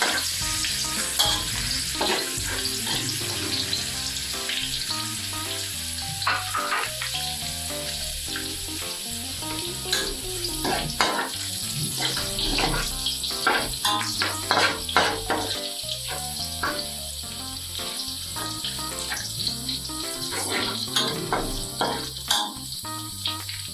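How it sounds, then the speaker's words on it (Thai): Aromatics sizzle in oil in a pan for Thai vegan salt and pepper tofu, a continuous crackling fry broken by repeated scraping strokes of a spatula, close and fairly loud, with no talk. "เจียวแค่พอหอมนะคะไม่ต้องให้เหลืองมาก"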